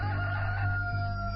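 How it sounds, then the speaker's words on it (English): A rooster crows in one sustained, steady call, loud and near, without other voices. "Immediately a rooster crowed."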